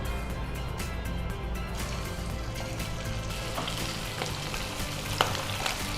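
Chicken drumsticks frying in hot oil for a butter garlic dish, a steady close sizzle with crackling pops running continuously, no talk over it.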